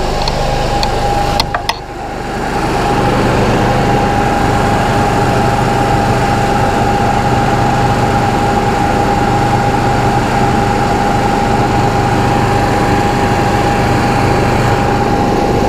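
An Onan generator engine runs steadily and loudly, a constant drone with a strong steady hum, after a brief clunk near the start.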